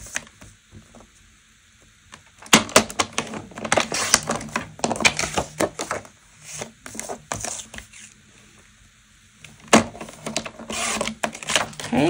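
Paper for a Halloween mini album is trimmed with a cutter, producing a run of close, busy scraping, sliding and clicking sounds in irregular bursts with brief quiet gaps, and no talk.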